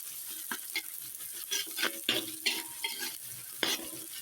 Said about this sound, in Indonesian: Selanjutnya kita akan tambahkan untuk bawang bombaynya, pemirsa. Ini kita tumis kembali, kita aduk-aduk.